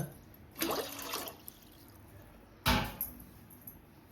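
Water is poured from a jug into a cooking pot in two separate splashy gushes, each trailing off into a brief trickle, quiet and close with soft clinks between.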